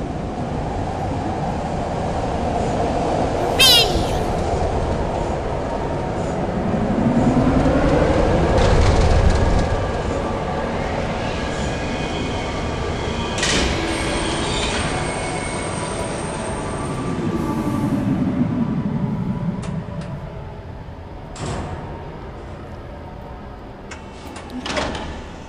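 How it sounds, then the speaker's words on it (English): A steady rumbling ride with rolling mechanical hum, a few sharp clanks and a sliding-door-like whoosh along the way, from a train journey in the video game Riven. "We go on a fun little train ride that's better than the Disney monorail."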